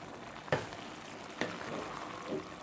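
Mixed vegetables cooking in a pan give a soft, steady sizzle. Two sharp clicks of a utensil against the pan stand out, followed by a faint scrape near the end.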